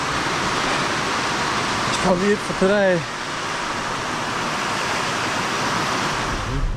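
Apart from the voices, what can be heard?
heavy rain pouring down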